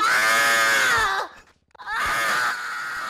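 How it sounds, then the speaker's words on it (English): A person lets out two long, loud, high-pitched screams, separated by a brief pause for breath, the second rising again before trailing off. "What are you screaming about?"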